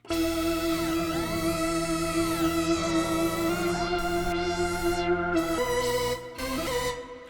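A dense, gritty Arturia PolyBrute 12 synthesizer drone with sweeping harmonics and a steady buzzing tone, loud and continuous, dipping briefly near the end.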